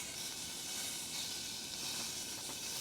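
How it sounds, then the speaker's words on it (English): Beef browns in a hot tray for Flemish stew, giving a continuous close, even sizzling hiss throughout with no talk. "we're going to brown it on all sides, pop it into this tray and do it in little batches to keep the sizzle there"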